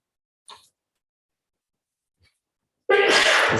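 A single loud, sharp sneeze bursts out near the end in a quiet courtroom during a civil jury trial, preceded by faint small noises and near silence.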